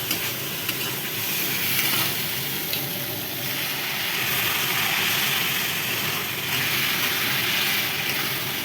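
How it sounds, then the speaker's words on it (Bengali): Curry spiced with cumin powder and salt being stir-fried in a pan, a continuous moderate sizzle and hiss with soft scraping of the spoon running throughout, no voices. "এবার এটাকে কষাবো ভালো করে।"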